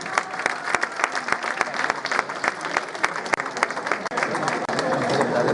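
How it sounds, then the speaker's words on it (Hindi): Audience at a mushaera poetry and ghazal evening applauding the composer, a lively run of many hands clapping with sharp distinct claps at first, thickening into a denser steady roar toward the end. "ताशी भाई के लिए जोरदार ताली।"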